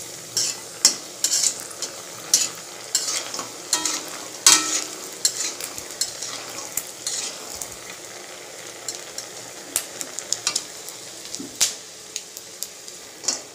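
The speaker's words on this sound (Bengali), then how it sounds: "এবার আমি প্রথমে বড়িগুলো ভেজে নেব। বড়ি ভালো করে লাল করে ভেজে তুলে রাখবো।" Lentil dumplings (bori) fry in hot oil and are stirred, giving a soft, steady sizzle broken by frequent sharp scrapes and clicks from the spoon. No one speaks.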